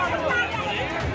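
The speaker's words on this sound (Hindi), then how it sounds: "टीका लगवाने के लिए लोगों की भीड़।" Crowd of people standing in a long queue outside a vaccination centre in Mumbai in the rain, a steady murmur of overlapping chatter and babble close by.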